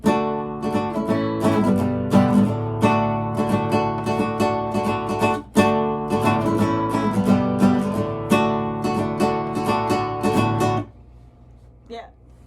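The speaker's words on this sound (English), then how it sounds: "So when you put all those chords together, it's gonna sound something like this." Guitar strumming a chord progression, with steady rhythmic strokes for about eleven seconds, then fading into near silence with a faint voice at the end.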